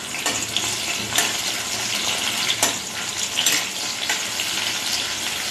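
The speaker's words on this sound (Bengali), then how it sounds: "ভালো করে পেঁয়াজটা লাল লাল লাল লাল করে ভাজবে।" Onion frying in mustard oil for a spicy Bengali aubergine dish gives a steady close sizzle, broken by a few sharp stirring scrapes; no one speaks.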